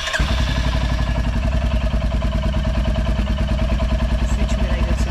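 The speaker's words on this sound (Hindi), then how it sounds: "और अब जब मैं इंजन स्टार्ट करूँगा," A Royal Enfield Hunter 350 motorcycle engine fires up with a quick start, then settles into a loud, steady, thumping idle close by.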